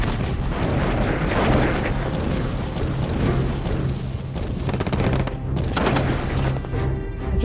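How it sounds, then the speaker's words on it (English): Battlefield gunfire as guns fire on advancing German tanks and troops: a dense, rumbling barrage of overlapping booms and sharp bursts, continuous and loud throughout, with no talking. "Newly restocked with ammunition, their guns devastate the approaching German tanks and troops."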